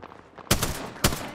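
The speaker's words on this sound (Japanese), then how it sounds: "銃声がこっちになった。" Gunfire in a first-person shooter game: two sharp, loud bursts of shots about half a second apart, ringing briefly over a quieter game background with no talk.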